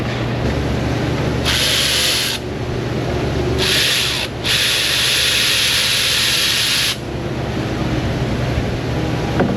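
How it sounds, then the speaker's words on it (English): Compressed air blasts through a car radiator in an auto repair shop, three loud hissing bursts of different lengths, close by, over a steady background hum with no talking. "I'm gonna blow this radiator out real quick before I attach this"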